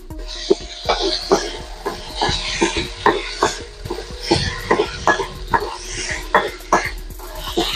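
Vegetable dish being stirred in a pan on the stove, a utensil scraping and knocking in a steady repeated rhythm over a faint sizzle, close and fairly loud.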